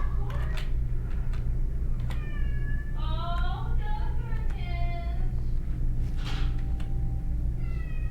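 A house cat meows and whines repeatedly in a series of rising, wavering cries, with a person's voice answering between them over a steady low hum.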